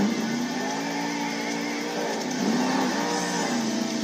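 A monster truck at a Monster Jam stadium championship event in Arlington, Texas revs hard and launches across the dirt track, its engine pitch climbing and swooping in loud, sustained roars.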